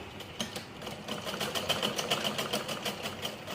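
A sewing machine runs a double line of stitching along joined blouse strips, giving a fast, even, close mechanical rattle of rapid needle strokes that speeds up slightly and carries on without talking.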